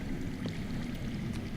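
Continuous low rushing of water flowing underground in the Game of Thrones video game, a steady muffled stream at an even level with no voices.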